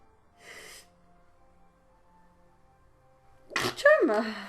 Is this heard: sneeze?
yes